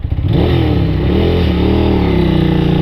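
Ducati 600 Supersport motorcycle engine running steadily and loud nearby, with a deep, even V-twin rumble that rises slightly in pitch, alone with no voices.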